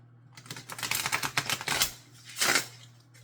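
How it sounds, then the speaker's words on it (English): Someone shuffles a new deck of cards in a quick run of crisp riffling flutters, then pauses and gives a second shorter riffle, close and clear against a faint hum. "I'm shuffling so many times because it's a new deck"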